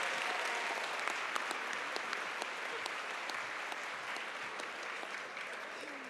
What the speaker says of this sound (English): Let's give Georgia State University a hand.